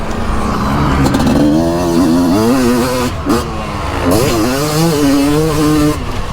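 A two-stroke motocross bike on a track at Trofarello, Italy revs loudly and close, its buzzing engine climbing and dropping through repeated throttle blips with brief dips between, and no one talking.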